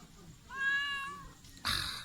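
A cat gives one clear, tonal meow in a quiet indoor setting, followed by a brief burst of rustling noise.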